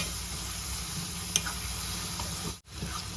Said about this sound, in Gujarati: હવે ડુંગળીને બરાબર આપણે સાંતળીશું